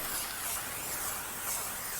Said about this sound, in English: So we're going to spray some non-stick spray oil.